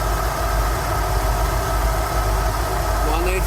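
A Rolls Royce Silver Shadow engine idles steadily during carburettor tuning, a continuous low rumble with a faint hum, while a voice talks over it.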